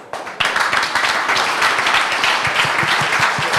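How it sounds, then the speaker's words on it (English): An audience at the Start Garden Update Night breaks into a round of applause for Teamwork bags, a sudden burst of dense, sustained clapping that stays loud and close until the end. "a round of applause for Teamwork bags"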